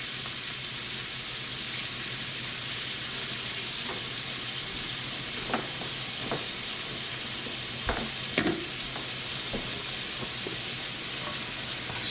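Armadillo meat and bell pepper fry in hot grease in a pan, a steady bright sizzle filling the whole stretch, with occasional clinks and scrapes of stirring and no talking.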